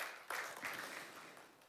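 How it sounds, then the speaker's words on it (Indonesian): A church congregation at a service breaks into faint, distant applause, a short soft wash of clapping that swells briefly and then fades. "Kita berikan tepuk tangan yang meriah buat Tuhan Yesus."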